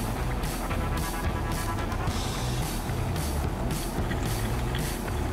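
A truck reversing a trailer by itself, with steady evenly spaced reversing beeps repeating over a continuous engine rumble, close and fairly loud with no talking.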